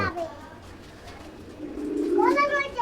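Pigeons from a Tapan Saha bloodline coo low and soft near the middle of the clip, with a person talking close by at the start and end.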